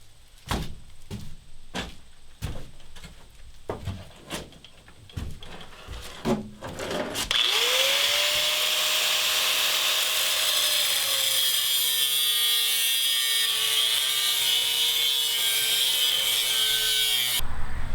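A power tool bites into a metal plate on a school bus conversion, starting after several sharp knocks and clanks, then spinning up into a loud, continuous grinding whine that runs steadily for about ten seconds before stopping.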